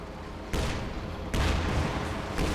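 Heavy gunfire and artillery blasts rage in a Company of Heroes 2 battle, with loud booming bursts at about half a second and again near 1.3 seconds, over a continuous dense roar of combat.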